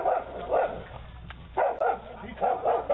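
A dog barks in several loud, close bursts spread across a few seconds, with brief quieter gaps between the barks.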